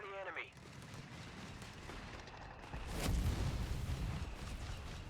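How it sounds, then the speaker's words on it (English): Artillery barrage in the strategy game Company of Heroes 3: a muffled rumbling of fire builds, then a heavier broadband blast hits around the middle and rolls on as sustained booming impacts. "Artillery being called in on top of the med bunker."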